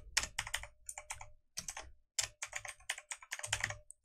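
Quick close-up typing on a computer keyboard while entering an email address, with bursts of clicking keystrokes separated by brief pauses and no talk.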